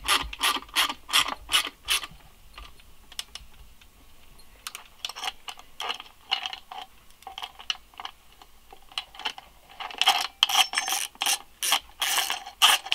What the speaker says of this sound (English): we're going to go ahead and put all the bolts back on where they came off